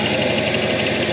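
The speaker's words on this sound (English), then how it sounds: "That tensioner pulley is a little noisy" A noisy tensioner pulley whirs on a supercharged Lexus ISF engine running nearby, giving a loud, steady mechanical drone with a faint rhythmic chatter and no talking.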